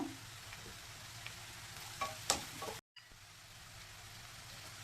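Crushed garlic, green chillies split down the middle and curry leaves fry in a pan for a clam thoran, a steady soft sizzle with a few louder crackles and stirring scrapes, briefly cut off midway.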